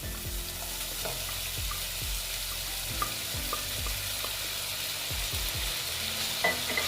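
Pieces of boal fish go into a hot pan of oil and sizzle steadily, with repeated scraping and stirring knocks from a utensil sounding up close throughout.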